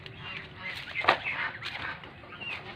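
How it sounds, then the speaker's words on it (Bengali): Muscovy ducks feeding in a banana field give a few short fowl-like calls, with the strongest near the middle, over a low rustling outdoor background. "কত সুন্দরভাবে হাঁসগুলা দেখুন এই জমির মধ্যে খাচ্ছে"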